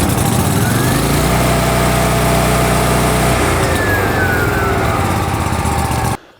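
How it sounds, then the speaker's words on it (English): A high-speed engine-drive welder on a 3/4-ton welding rig running loud and close, a steady buzzing drone with a tonal hum midway, then cutting off abruptly at the end. "I find these, you know, high-speed engine drives to be really annoying"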